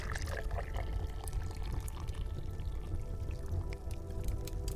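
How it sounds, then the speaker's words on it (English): Tea poured from a teapot into a teacup, a steady close liquid trickle running without pause alongside faint drips and splashes, with no one speaking. "you grab your teacup and slowly pour the tea"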